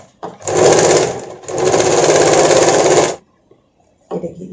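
A sewing machine stitches a sleeveless princess-cut blouse in two loud, even bursts of rapid whirring, broken by a brief pause and followed by a short silence and a final quick burst.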